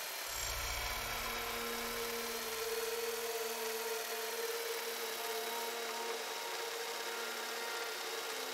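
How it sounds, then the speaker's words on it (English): A surveillance drone in Sniper Ghost Warrior 3 hovers with a steady, even whirring drone and a faint tonal whine, a low rumble fading out early, continuous and unbroken throughout. "Bring the drone back out."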